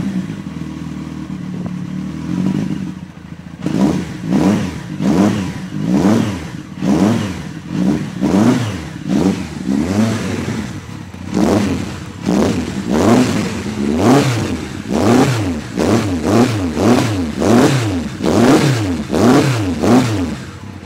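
Yamaha XJR 1300 motorcycle fitted with a Delkevic exhaust idles briefly, then roars through a long series of sharp, loud blips and revs close by, each rise and fall repeating in a steady rhythm with no talking.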